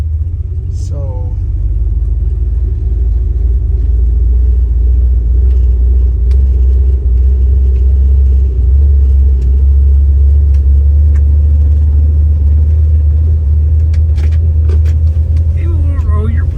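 A car engine fitted with big turbo mufflers idles and cruises with a steady, fairly quiet low rumble throughout, close by, while people talk over it.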